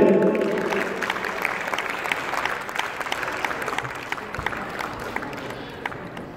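Audience applause at a Youm-e-Pakistan gathering, greeting a ghazal poet: a dense, steady wash of many hands clapping, loudest at the start and easing slightly as it continues, with no voices over it.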